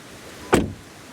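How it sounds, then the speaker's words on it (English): A single car door of a 2022 VW Taigo Style trim SUV coupe shutting, one short solid thud in an otherwise quiet setting. "Door closing sound."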